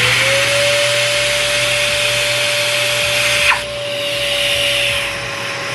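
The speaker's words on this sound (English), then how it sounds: "This is a tool-activated dust extractor." A Hercules 12-gallon tool-activated dust extractor runs with a loud, steady whine and rushing airflow, briefly dipping in pitch partway through before settling back to a constant drone, with no talking.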